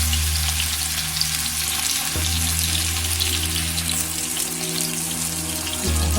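Kebabs frying on a tawa as oil is added at the side, a loud continuous sizzle close up with a low steady hum beneath it and a couple of brief shifts, no voices.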